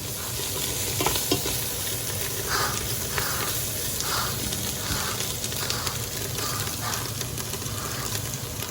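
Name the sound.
beef broth deglazing a sizzling pan for cheesesteak soup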